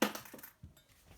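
A few wheat cents drop and clink in quick, faint metallic impacts, close by and quiet, a cluster at first and then scattered single hits.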